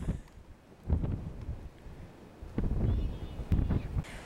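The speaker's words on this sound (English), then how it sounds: "look at them trees there, how they're leaning to the right hand side, and you can hear the wind" Wind gusting through leaning trees in a dale in Lytton Dale, rising in rough buffeting surges with rustle and mic rumble, quieter between gusts.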